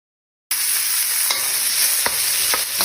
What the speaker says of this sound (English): got some salt, pepper, and with my hot olive oil. I'm just going to saute these for about 3 to 4 minutes